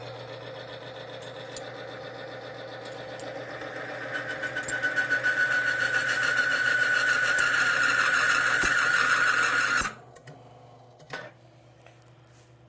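A Timken bearing test machine running on Thixogrease, a mechanical drone that builds into a loud whining hum with a rising tonal squeal, then cuts off abruptly, leaving faint clicks and a low hum, no voices.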